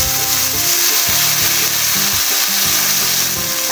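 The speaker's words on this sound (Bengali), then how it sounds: "এরপর এই সর্ষের মিশ্রণটি আমি তেলের উপর দিয়ে দেব।" Mustard paste poured into hot oil with a dry red chilli for a fish curry, a loud, close, continuous sizzle with scraping stirring strokes underneath, no voices.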